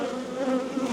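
Honeybees buzz steadily around an open farmyard hive during a frame inspection, a close, continuous droning hum that swells slightly as individual bees pass near.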